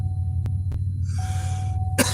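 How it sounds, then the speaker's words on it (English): A person coughs, with a couple of short dry bursts early on and one louder, harsher cough near the end, heard close over a steady low hum. "I don't mean to cough"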